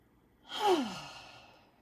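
A single deep exhale during a breathing exercise, a breathy sigh that swells quickly and then fades out slowly, close and quiet, with no other sound.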